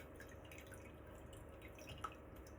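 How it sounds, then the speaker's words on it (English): Juice from canned pineapple dripping and trickling as the can is drained, a soft steady liquid patter with small drips over a low background hum. "Drain the pineapple first."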